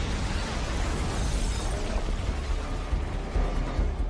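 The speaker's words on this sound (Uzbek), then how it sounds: "Portlash qayerdan keldi?" Explosion in an Uzbek-dubbed action film, a loud, sustained broadband blast with debris-like crackle and rumble filling the whole stretch, no speech over it.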